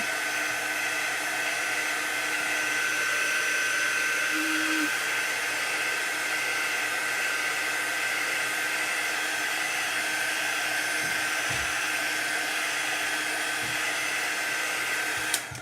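A hair dryer runs steadily on chalk paste over a stencil, a close, constant whooshing hum with no talk, plus a few faint knocks near the end.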